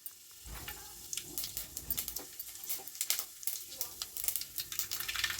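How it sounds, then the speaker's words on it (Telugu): Tempering spices sizzle and crackle in hot oil for a thick poha dish, with a dense, steady frying hiss full of sharp pops that builds slightly over several seconds, close by and with no talking. "తాలింపు అయితే వేస్తున్నాను."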